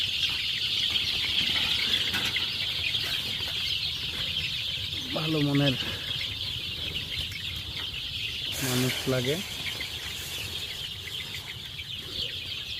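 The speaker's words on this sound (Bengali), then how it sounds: "দেখতে পাচ্ছেন মুরগিগুলো অনেক সুস্থ আছে" Farm chickens cluck in two short bursts over a steady, loud background hiss, with a voice speaking briefly nearby.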